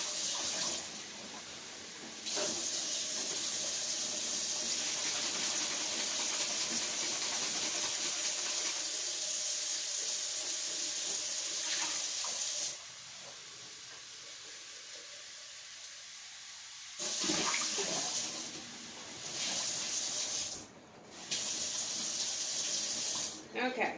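A kitchen tap runs water to rinse out a cup. The flow is loud and steady, broken by a brief pause and by shifts in tone as the stream hits the cup, with no talking.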